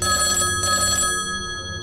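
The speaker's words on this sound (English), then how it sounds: "Oh, the phone's ringing." A telephone rings inside the video game Guilt, a sustained electronic bell tone with steady harmonics that holds for most of the moment, fairly loud, and then fades slightly toward the end, with no one talking over it.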